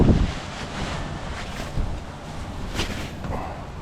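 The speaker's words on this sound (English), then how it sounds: "It's getting windy out here" Gusty wind buffets the microphone with a low, rumbling roar that swells and eases throughout.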